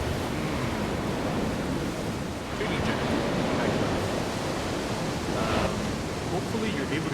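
Ocean waves from Call of Cthulhu: Dark Corners of the Earth wash in a steady, loud surf roar with gentle swells and hissing spray, heard alone without voices.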